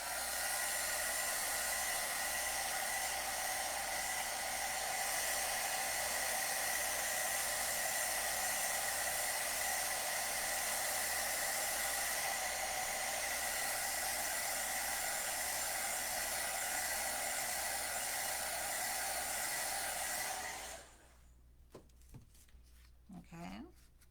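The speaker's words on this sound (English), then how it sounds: "I think somebody left a blow dryer somewhere" A handheld blow dryer roars steadily at close range, drying paint for a long stretch before clicking off into near silence with faint handling sounds.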